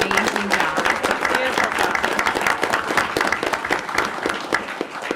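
Audience applause at a school board meeting, a steady wash of many hands clapping for about five seconds, fairly loud, with some voices mixed in.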